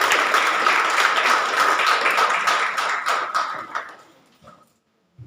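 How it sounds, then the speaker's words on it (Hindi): An audience at a university Hindi Department event breaks into strong applause to welcome a speaker, Dr. Rita Singh, steady dense clapping that fades out over about four seconds and ends in near silence. "आप लोग एक बार जोरदार तालियों से स्वागत करें डॉक्टर रीता सिंह जी"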